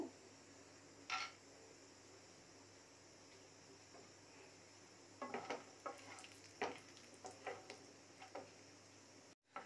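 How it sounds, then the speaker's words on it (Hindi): Almonds and cashews roasting in a spoonful of ghee in a pan, heard as a faint, steady low sizzle with scattered soft scrapes and clinks of a spoon against the metal, and no one speaking. "पहले हम ड्राई फ्रूट्स को भून लेंगे बादाम काजू"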